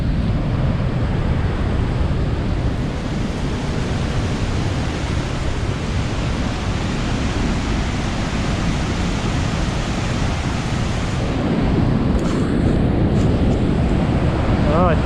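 The Augrabies waterfall on the Orange River in flood roars as a constant, loud, broadband rushing wash that barely changes over fifteen seconds, with wind buffeting the microphone and no clear talk.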